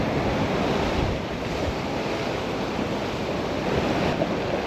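Strong wind at sea off Guernsey during a bass fishing trip, a steady loud roar of gusting air buffeting the microphone over broadband surf-like noise, with no talk.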